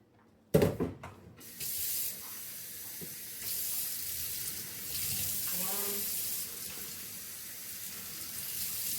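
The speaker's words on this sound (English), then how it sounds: "We're gonna put 4 cups of water." Tap water pours into a rice pot for cooking, a steady nearby splash and hiss that starts abruptly after a brief clatter and runs on evenly.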